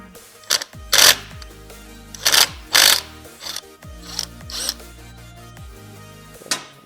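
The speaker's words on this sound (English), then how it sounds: "And then we're going to use a 21mm socket" A ratchet with a 21mm socket loosens a wheel axle nut on a Nami Klima electric scooter, giving several close, sharp bursts of clicking separated by short pauses, with no voices.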